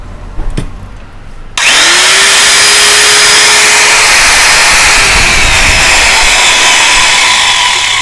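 A Ralli Wolf 1050-watt, 11,000 RPM power tool clicks on after a quiet moment and spins up into a loud, steady high-pitched whine that holds at full speed.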